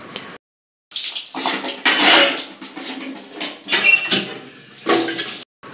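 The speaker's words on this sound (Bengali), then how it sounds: "দেখো আমি থালাগুলো এখানে টেবিল পারে ধুয়ে নিচ্ছি" Plates being washed on a table: loud, close clattering of dishes with splashing water in bursts, broken by brief pauses.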